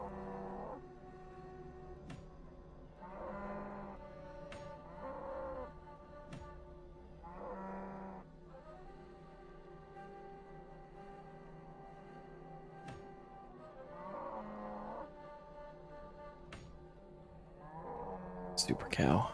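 In the RuneScape video game, a super cow gives a series of short, moderately loud moos at a steady pace over a continuous game background, with a louder clatter at the end.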